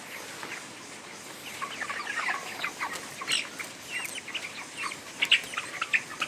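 Chickens in hot midday weather under a running fan, giving faint, scattered clucks and soft chirps over a steady background hiss.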